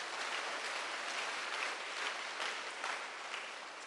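A congregation claps together at a Christian prayer gathering, a dense, steady patter of many hands heard at a distance, with no speech over it.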